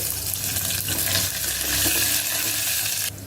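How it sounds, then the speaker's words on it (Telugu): Dried red chillies and chopped onions fry in hot oil for a South Indian tiffin sambar tempering, giving a steady close sizzle and crackle that carries on without a break, with a faint watery hiss near the end. "ఇప్పుడు పోపు వేగిపోయింది"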